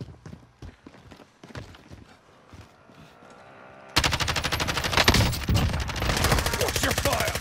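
Rapid automatic gunfire in the Call of Duty Warzone video game bursts in halfway through, dense and loud after a stretch of quieter in-game sounds and voices talking.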